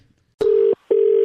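A telephone line tone sounds just before a prank call: two long, steady, loud beeps separated by a short gap, with no voices.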